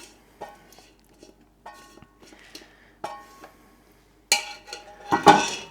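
A utensil scrapes and clinks against a pan while juices are worked loose from the bottom during meal prep, with scattered taps early on and louder, denser scraping near the end.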